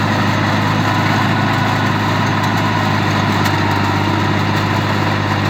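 A New Holland 3630 tractor engine runs loud and close, a steady heavy low rumble that is constant throughout and has no talk over it.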